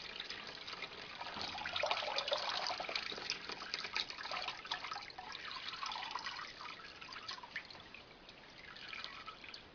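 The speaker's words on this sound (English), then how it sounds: "we're going to dump the water." Water being dumped out of a container onto newspaper while dyeing UGG boots, a steady splashing, trickling pour that swells and eases over about ten seconds, close by with no talking.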